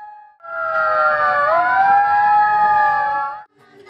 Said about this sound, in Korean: 기후위기를 알리는 사이렌 소리가 울려 퍼지고